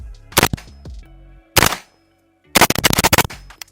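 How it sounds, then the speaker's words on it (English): Shots from an Extar EP9 9mm pistol-caliber carbine at a range, loud and close: two single sharp reports about a second apart, then after a pause a rapid string of closely spaced shots. "we have the very first shots with the EP9 by Extar"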